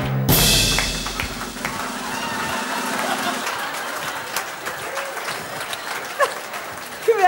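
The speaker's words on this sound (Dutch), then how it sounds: "Een groot applaus, Elvie Rox" At a village variety evening, an audience gives a sharp opening burst of applause that settles into steady clapping with scattered claps and thumps, while voices murmur and a few people talk underneath.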